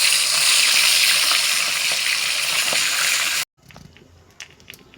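Fish sizzling loudly in hot mustard oil in a home kitchen pan, a dense steady crackle and spit that cuts off abruptly partway through, leaving faint clatter and quiet kitchen sounds.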